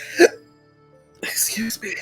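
A single sharp, voiced hiccup bursts from a storyteller close to the microphone. After about a second of quiet comes a stretch of breathy, hissy vocal noise.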